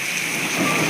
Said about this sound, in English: This is the worst hail I've ever seen.